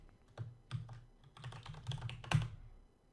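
Keys clatter on a computer keyboard in short, irregular bursts of taps, close and fairly quiet, with one sharper louder keystroke near the end and brief pauses between runs.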